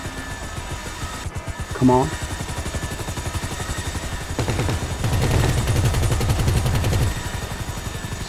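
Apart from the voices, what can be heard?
helicopter cannon gunfire in the video game GTA V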